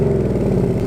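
Ford Mustang Bullitt, 2019, exhaust in normal mode with its valves partly open: a steady, throaty V8 idle burble, close and continuous, with no voices over it.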